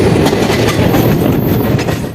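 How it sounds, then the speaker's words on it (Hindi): The Hatia Patna Patliputra Express rumbles loudly past a crossing, close and continuous, with rhythmic clickety-clack of wheels over rail joints and a heavy roar throughout. "Hatia Patna Pataliputra express crossing."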